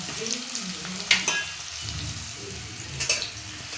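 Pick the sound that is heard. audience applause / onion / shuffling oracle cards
onion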